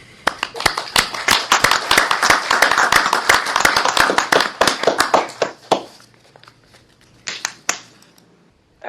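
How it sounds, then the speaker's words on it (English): Clapping from several participants joining a remote online board meeting for an East Bay water utility, sharp uneven hand claps bunched over a steady bed for about six seconds, then a few scattered claps fading out. "Congratulate me with your virtual applause."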